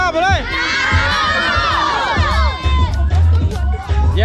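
A football crowd at a Lao League 1 match cheers together for the Nam Tha team: loud, sustained shouting and whooping from many voices at once, with excited yells rising and falling through the chant.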